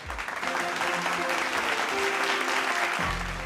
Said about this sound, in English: And could we have a huge round of applause, ladies and gentlemen?